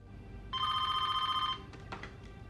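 A single electronic telephone ring, a bright steady tone lasting about a second, followed by a faint click and quiet handling noise.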